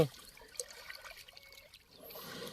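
Water from a fountain trickles and splashes softly while an elephant calf plays in it. The flow is a continuous faint dribble, a little louder near the end, with no voices.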